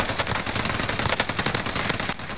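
Rapid automatic gunfire from a Call of Duty Vanguard Warzone match, loud dense bursts of shots with sharp repeated cracks continuing throughout without talk.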